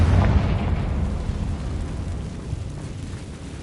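A fiery blast from the Confringo spell in the video game Hogwarts Legacy: a loud, low boom that opens strongly, then rolls off into a long rumbling decay that fades steadily with no voices over it.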